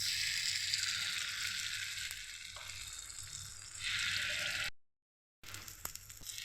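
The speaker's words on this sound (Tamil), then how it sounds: "எண்ணெய் சூடானதும் அரை மணி நேரம் ஊறின மாவை ஊற்றிடலாம்" Sathu maavu batter hissing and sizzling in hot oil in a kuzhi paniyaram pan, a steady close crackle with a brief silent gap near the end.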